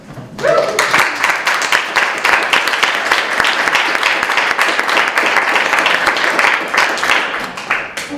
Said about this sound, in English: I think we should give a round of applause to them